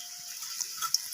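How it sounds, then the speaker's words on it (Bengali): Water is poured into a pan while cooking a small-fish curry, a brief, soft, steady trickle with a couple of faint splashes, close and quiet. "এখন আমি এখানে দিয়ে দিলাম প্রয়োজন মতো জল"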